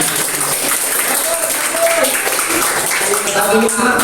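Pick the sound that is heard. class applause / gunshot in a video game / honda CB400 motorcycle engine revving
class applause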